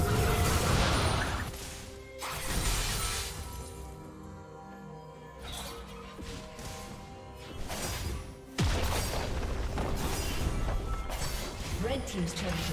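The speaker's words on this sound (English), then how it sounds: "Blue team's turret has been destroyed." Turret destruction in a League of Legends match: several loud crashing, shattering impacts break up a dense mix of game effects, with quieter stretches between bursts.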